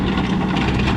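A Kubota excavator rips a concrete curb and gutter out of a road during sewer work, giving a brief, close, steady heavy diesel drone and rumble with no talk.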